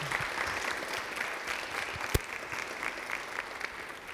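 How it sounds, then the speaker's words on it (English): An audience claps for the evening's speakers at a human trafficking talk, a steady dense round of applause from a mid-sized crowd with a single louder clap partway through. "how about a round of applause for our speakers tonight?"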